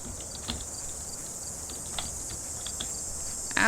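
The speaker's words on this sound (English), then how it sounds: "that cricket noise is hurting my ears" Cricket chirping in Verdant Skies: a constant high, thin insect trill runs through the whole stretch, with faint scattered clicks beneath it.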